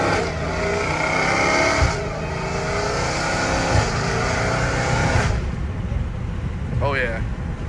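A 797 hp Dodge Hellcat Redeye engine roaring loudly in long sustained revs with harmonic sweeps, rising and falling over several seconds, with voices in the background.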